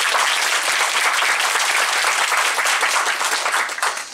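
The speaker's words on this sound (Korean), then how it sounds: "5분에게 좀 큰 박수 좀 부탁드리겠습니다." Dense, loud applause from a conference audience thanks five presenters after their talks, a continuous wash of many hands clapping with no pause that thins slightly at the very end.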